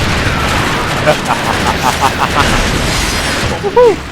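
Gunfire rings out in Transformers: Fall of Cybertron as a run of repeated shots, loud and close, mixed with booming effects and game chatter.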